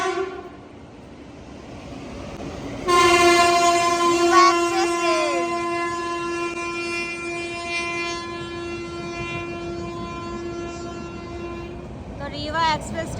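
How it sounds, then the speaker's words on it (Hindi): The Rewa Express passes through an Indian railway station, sounding a long, loud multi-tone horn blast that bends in pitch, followed by a shorter toot as the train goes by. "रीवा एक्सप्रेस ट्रेन जो है हमारे सामने से क्रॉस हो रही है।"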